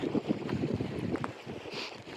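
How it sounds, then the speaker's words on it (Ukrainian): Gusty wind roars and buffets the microphone in a steady low rumble, with no voices. "Такий вітер прям з них здуває"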